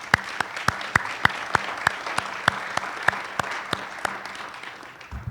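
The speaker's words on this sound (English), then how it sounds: "So give those guys a round of applause." Applause from a sparse audience at a university athletics senior celebration, with distinct individual claps in a steady rhythm, fairly close and moderately loud, tapering off near the end.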